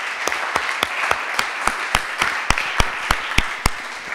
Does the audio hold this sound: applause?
yes